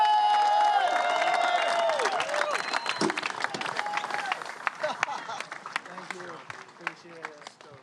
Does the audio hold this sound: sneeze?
no